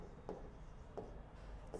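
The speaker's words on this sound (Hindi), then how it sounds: "अब यहाँ लिखेंगे शियर फोर्स कैलकुलेशन" Marker or chalk strokes on a classroom board while writing a shear force calculation heading, heard as three brief scratchy taps spaced about a second apart, close and quiet with no talking.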